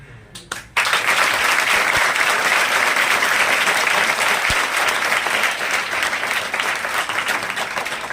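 An audience breaks into loud, sustained applause at a school event for a save-girl-child campaign, dense clapping from a large crowd that carries steadily for several seconds after a few scattered early claps.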